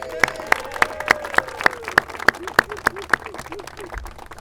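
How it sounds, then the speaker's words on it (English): At an outdoor park improvement event in Egger Highlands, hands clap in a steady, evenly spaced rhythm of a dozen or so sharp beats while a voice carries on beneath them. "How about a round of applause for our turtles who are here?"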